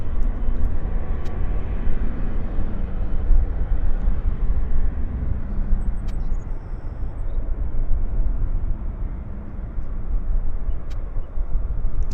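A Korean Airlines airliner taxiing toward its parking stand at Vancouver Airport, a steady broadband jet engine rumble close by that holds evenly throughout with no talk.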